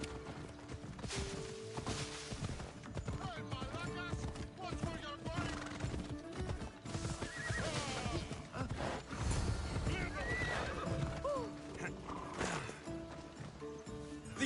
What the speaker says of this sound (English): The horse wasn't feeling so good today.